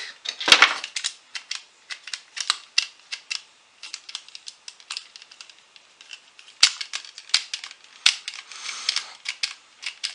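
A modified Nerf Diatron blaster's trigger is worked repeatedly, giving sharp plastic clicks and snaps in irregular bursts, close and fairly loud, with quiet gaps between.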